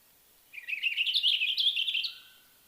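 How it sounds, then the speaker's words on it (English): A short run of rapid, high bird chirps, about a second and a half long, rings out clearly on its own at a lakeside mountain birding spot, with no talking. "Also, it does have a very quick little chirp."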